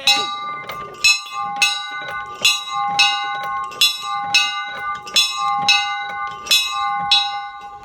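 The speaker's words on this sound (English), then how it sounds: "And then I got this old bell that I didn't know anything about bells." An old bell rings repeatedly in a steady rhythm, each loud metallic strike followed by a long ringing hum that carries into the next stroke.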